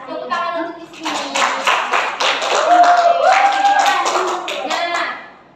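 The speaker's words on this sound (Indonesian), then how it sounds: "Tepuk tangan untuk di sini." Children in a classroom clap their hands together, a burst of irregular claps lasting several seconds, mixed with young voices and chatter, then fading out at the end.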